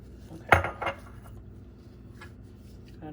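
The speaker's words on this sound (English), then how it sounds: "Now gently stir." Spoon stirring boozy hot cocoa in a small mug, giving two quick clinks of metal on ceramic followed by a quiet, faint scraping swirl.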